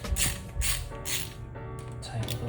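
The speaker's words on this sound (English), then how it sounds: "Tighten it the rest of the way with your 10 mil." A ratchet with a 10 mm socket tightens bolts on a 2023 Kawasaki KLX230SM motorcycle during an oil change, giving a close, quiet run of clicking pawl strokes in a few short bursts.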